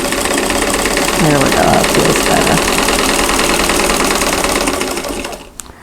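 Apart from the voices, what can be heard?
sewing machine stitching quilt block pieces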